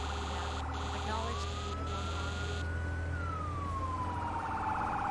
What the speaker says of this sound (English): Turn on them sirens,